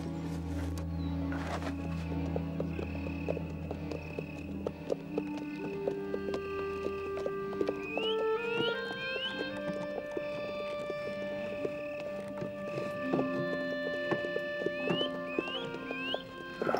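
Horses in a historical French costume drama: steady clip-clopping hooves with occasional whinnies, heard under continuous orchestral music throughout.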